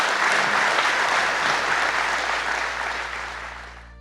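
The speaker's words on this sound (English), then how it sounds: "I think that deserves a big round of applause" Loud, sustained applause from a basketball arena crowd at a Milwaukee Bucks game, steady dense clapping that gradually fades over a few seconds with no voices on top.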